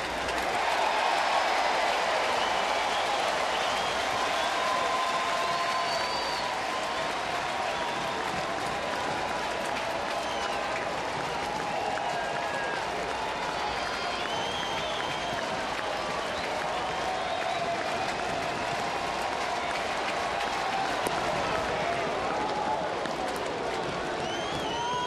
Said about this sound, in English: they're on their feet. We'll let the crowd take you through this at bat.